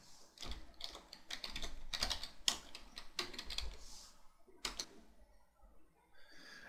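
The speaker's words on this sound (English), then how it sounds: "I'm going to type in ipconfig/all and hit enter" Clattering keystrokes on a computer keyboard as a command is typed into a Windows 7 command line, an irregular burst of close, crisp clicks with brief pauses between groups.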